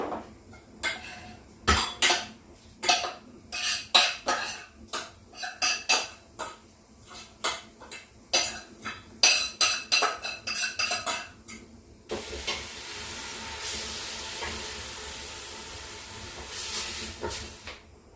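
Garlic granules and onion powder being stirred into oil in a pan, with a run of sharp utensil scrapes and clacks against the pan followed by a steadier sizzling hiss, close and with no talking.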